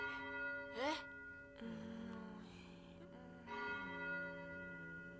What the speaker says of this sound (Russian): Колокол долго будет звонить.